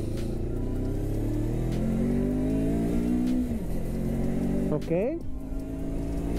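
A Taro GP1 400 cc motorcycle engine idles and then revs up in a couple of rising sweeps, loud and close, with a brief spoken word over it.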